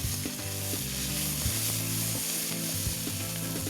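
Vegetables fry in hot schmaltz, a steady loud sizzle and bubbling with occasional stirring scrapes running throughout.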